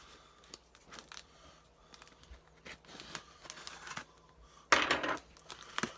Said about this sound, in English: I don't have a proper cutter, so I'm just using scissors of mine that come apart